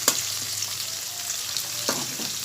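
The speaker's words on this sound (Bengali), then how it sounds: "দেখুন আলুটা ভাজা ভাজা হয়ে গেছে" Potatoes frying in dark, reused oil, a soft continuous sizzle with a couple of light stirring scrapes, close and fairly quiet, no talking.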